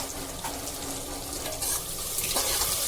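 Finely chopped ginger, garlic and green chillies sauté in a pan over a medium flame, giving a steady soft sizzle and frying hiss with a few light clinks of stirring, close and fairly quiet throughout.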